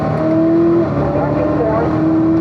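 Chevrolet Corvette C7 ZR1 engine pulling hard on the Spring Mountain race track, a loud, steady, close-up drone with sustained tones, while a voice speaks over it.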